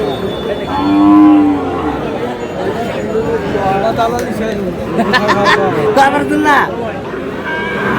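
Sahiwal bull calves and cattle moo at a busy livestock market in Narail, with one clear low moo early on amid a steady hubbub of crowd chatter and voices.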